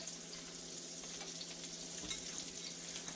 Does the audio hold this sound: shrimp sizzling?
yes